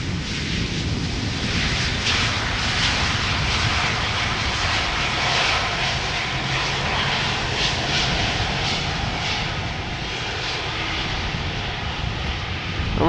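Turkish Airlines jet aircraft at Schiphol Airport, a steady loud broadband engine roar that holds throughout without pause, heard from a distance across the airfield.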